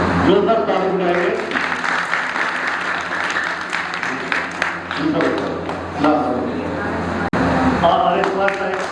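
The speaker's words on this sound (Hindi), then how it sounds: "जोरदार ताली बजाएंगे।" A loud, sustained round of applause fills an Arya Samaj Kalkaji summer camp gathering with children, with dense clapping that swells and dips, and voices heard alongside it.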